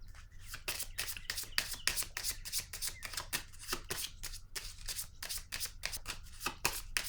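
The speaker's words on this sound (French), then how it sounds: "Je vais piger une autre carte sur la solitude" Oracle cards being handled and drawn from a deck, a rapid series of crisp riffling and flicking snaps close up, steady and continuous with no voice.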